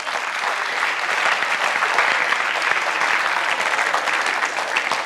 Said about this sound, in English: So now that we finished with all the clapping